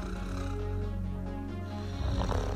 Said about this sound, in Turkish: Horlama, uyku apnesi ile ilişkili en yaygın belirtilerden biridir.